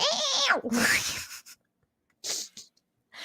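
A human voice imitates cats fighting, with a rising, wavering yowl followed by a sharp hissing burst, then a pause and two shorter hissy spits.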